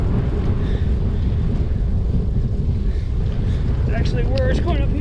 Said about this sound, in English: The wind's blowing that way.